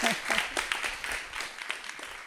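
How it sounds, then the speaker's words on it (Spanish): Applause from an award-ceremony audience, moderately loud with dense clapping throughout, while a voice also sounds over parts of it. "un gran aplauso, 10 segundos de aplauso"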